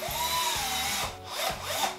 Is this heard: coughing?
no